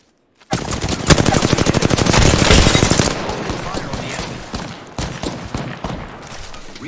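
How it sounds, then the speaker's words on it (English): Rapid automatic gunfire in Apex Legends, a loud sustained burst of closely spaced shots that slows into scattered, slightly quieter shots toward the end. "Opening fire on the enemy."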